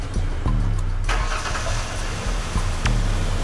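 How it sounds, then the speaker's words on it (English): A car engine cranks and catches after a jump start, settling into a steady, close, loud idle with a few sharp clicks and bumps over the running rumble. "This car has been jump started."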